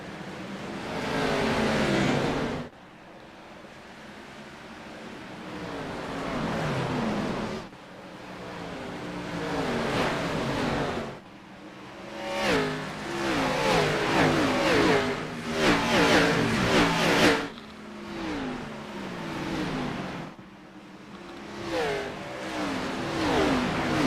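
Race cars in the iRacing video game lap the Rockingham oval, engines roaring and revving loudly in long sustained waves that rise and fall as cars accelerate and pass, with brief dips between passes and no talk.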